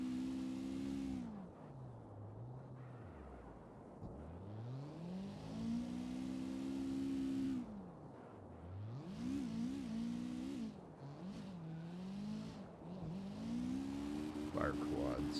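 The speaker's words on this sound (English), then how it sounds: "Really gotta start, popping the clutch." A car engine revs hard in repeated surges, its pitch climbing and dropping several times as the driver tries to get it going by popping the clutch. The engine sound is loud and close throughout.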